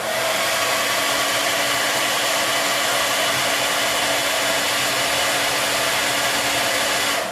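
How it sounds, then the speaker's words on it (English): A hair dryer runs steadily at close range for the whole stretch, a loud continuous blowing whir with no talking over it. "You get a hairdryer and you turn it on"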